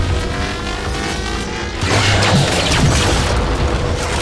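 Heavy explosion as a turret is destroyed in Halo 4 Spartan Ops, a loud rumbling blast that rises out of steady, dense game noise and lingers.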